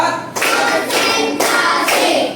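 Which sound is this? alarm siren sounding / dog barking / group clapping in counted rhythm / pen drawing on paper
group clapping in counted rhythm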